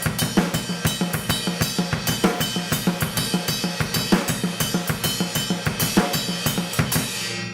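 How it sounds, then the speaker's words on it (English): Rock drum beat with steady, evenly spaced ride cymbal strokes over a punchy kick and snare groove for several bars, played loud and close. "this time I'll be playing it on the ride cymbal, but it's the same beat."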